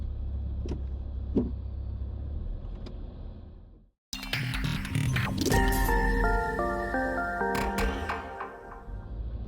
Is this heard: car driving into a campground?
yes